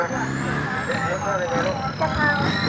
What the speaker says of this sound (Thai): ฟังจากเสียงแล้วเกียร์น่าจะแตก